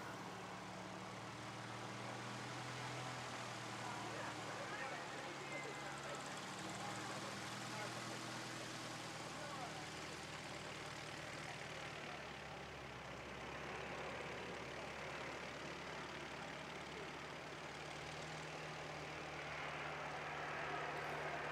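An airliner lands at Christchurch International Airport, a steady broad engine roar rolling on for over twenty seconds at moderate distance, with wind and background noise.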